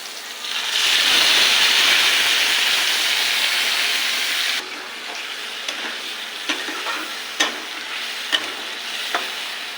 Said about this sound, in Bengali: আলু পটলটা ভেজে নিয়েছি, এবার দিয়ে দেবো বেটে রাখা মশলা।